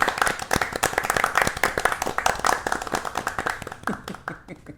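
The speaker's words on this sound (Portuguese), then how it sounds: "Aplausos." A small group clapping steadily through a livestream-style review segment, dense overlapping claps that thin out toward the end into a few scattered, separate hand claps.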